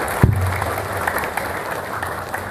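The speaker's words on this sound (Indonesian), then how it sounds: "Tepuk tangan buat Menteri Agama." Applause from an audience at an Islamic lecture, a dense steady patter of many hands that carries on evenly for a couple of seconds, with a low thump at the start.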